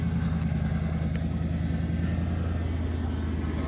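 A Lexus LS400 with about 250,000 on the clock idles steadily up close, its low, even engine rumble running unbroken with no voices over it.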